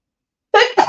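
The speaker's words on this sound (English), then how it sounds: "And I'm going to sneeze." A single close, loud sneeze from a woman crafting paper at her table, a sharp two-part burst following a moment of silence.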